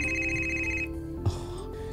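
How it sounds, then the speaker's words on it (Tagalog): A phone ringtone sounds for an incoming call, a steady electronic ring for most of the second, then a brief knock and a softer continuing tone in a quiet room. "Kadiyot, may nanawag na ko."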